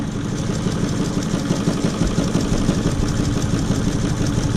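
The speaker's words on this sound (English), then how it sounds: "I am going to sew this zigzag stitch right across that" A sewing machine runs steadily, stitching a 4.5 by 0.5 millimetre zigzag across the binding of a fabric PPE mask, a continuous close mechanical whir with a fast even pulse and no voices.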